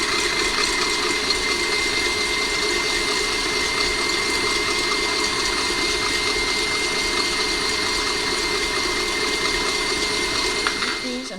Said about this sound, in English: gradually add your 3 tablespoons, which is half the amount of sugar, into the egg whites as you're beating them on high speed